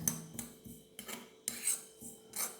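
Sprouted ragi lightly frying in a pan, heard as a series of soft metallic scrapes and stirring rasps, five or six strokes at a steady pace, fairly close and quiet, with no voices.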